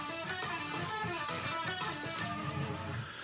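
An electric guitar plays the fast middle section of a Stevie Ray Vaughan–style speed lick. Rapid, dense notes ring out clearly and continuously for a few seconds with no talking.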